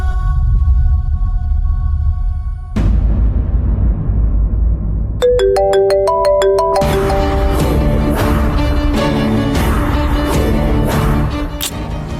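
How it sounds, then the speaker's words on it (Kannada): A phone ringtone plays a bright, rising run of electronic tones that repeats and thickens into a melodic tune, loud and close over a low background hum. "ಯಾವ್ದೋ ಫೋನ್ ಬರ್ತಿದೆ, ಎತ್ತು ಮಾತಾಡಿ."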